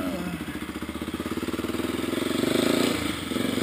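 A Honda NX4 motorcycle engine runs with a pulsing, throbbing rumble, close by, rising slightly in revs as it rolls along.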